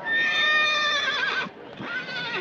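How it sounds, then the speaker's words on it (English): A horse on a Wyoming ranch gives a loud, close whinny, a long quavering cry that drops off and then returns in a second shorter burst. "he's giving you the horse laugh now"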